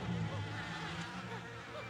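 Bees buzzing in Yooka-Laylee, a continuous wavering insect drone with swooping pitch as they fly close, steady throughout with no talk.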